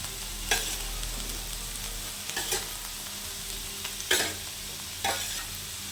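Vegetables and tomato stirred in a pan for fried rice: a soft continuous sizzle with a low steady hum beneath, broken by four sharp scraping spatula strokes spaced a second or two apart, close but fairly quiet, no talking.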